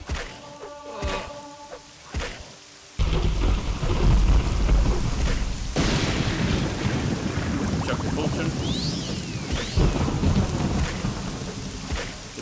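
Heavy rain pours steadily during a thunderstorm in the game Morrowind, with loud thunder rumbles and cracks over the downpour and occasional faint voices.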